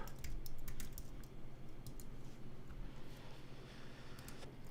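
Rapid computer keyboard typing sits close and fairly quiet over a steady low hum, with clustered bursts of keystrokes early on and more scattered taps toward the end.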